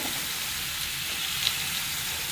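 Onions sauté in a pan for a Kerala fish dish, giving a soft, even sizzle with a faint tick partway through and no voices.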